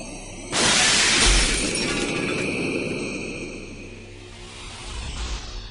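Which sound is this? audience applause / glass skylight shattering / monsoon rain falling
glass skylight shattering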